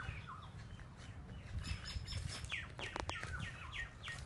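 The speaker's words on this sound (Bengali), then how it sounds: "শুনতে পাচ্ছ তোমরা পাখির ডাকটা?" Outdoors on a school playing field, a bird gives repeated short chirps and tweets, fairly faint and distant, in scattered bursts over a low rumbling background with no speech.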